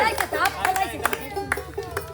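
Audience at a playful games event clapping for a contestant, scattered uneven claps over a crowd murmur, mixed with overlapping talk nearby.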